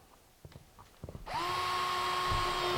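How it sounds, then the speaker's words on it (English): A power drill bores a pilot hole through laminate flooring into the subfloor, starting after a few light taps and then whining steadily and loudly at a constant pitch until the end. "I just get through the laminate and a little bit through the subfloor, and I made myself a nice little pilot hole"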